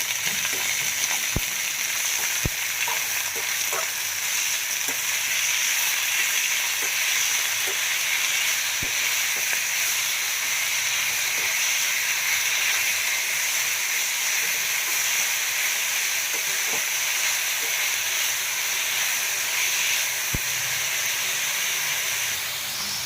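A radish dish sizzling steadily in a pan over a low gas flame while being mixed, a constant hiss with occasional faint clicks of a utensil, heard close and alone with no talking.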